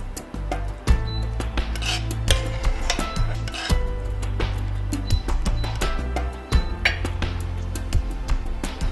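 Metal spoon scrapes and clinks against a pot and bowl while ostrich goulash with sauce, meat and vegetables is ladled out, a close series of irregular taps and rasping scrapes over a low background hum.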